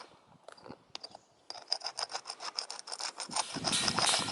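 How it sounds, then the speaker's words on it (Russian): Repeated rubbing and scraping strokes across a painted art-concrete surface outdoors after winter, loud and close, rhythmic scrubs that grow denser and harsher toward the end, with no talk. "Вот я вам шкрабаю"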